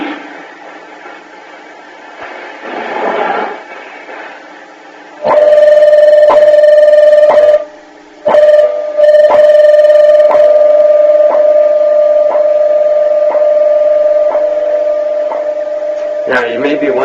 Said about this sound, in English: Those are tones at 1 second intervals.